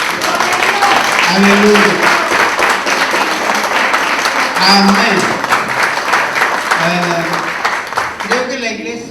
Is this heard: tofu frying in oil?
no